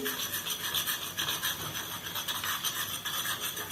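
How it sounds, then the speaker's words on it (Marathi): Flour being stirred into browned onions in a pan for French onion soup, giving a steady, close scraping and rubbing texture that continues without pause and is heard alone, with no talk. "आता मैदा टाकून घ्यायचा आहे याच्यामध्ये आणि मिक्स करून घ्यायचा आहे"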